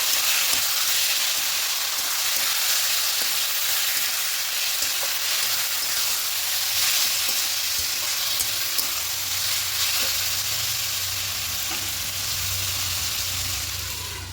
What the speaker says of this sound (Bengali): এবার এখানে চিকেনটা দিয়ে দেবো এই ম্যারিনেট করা চিকেনটা দিয়ে দিলাম এটা খুব ভালো করে সমস্ত কিছু কষে নেব